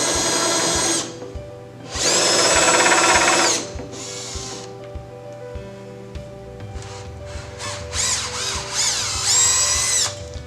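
A power drill bores pilot holes into an elevator hoistway door, with repeated high whining bursts of a few seconds each separated by pauses and lower motor hum, close and loud with no talking.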